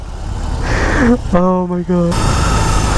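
A 2021 BMW R18 First Edition cruiser's 1800cc boxer engine rumbles and idles close by, a low steady throb running underneath an excited rider's voice.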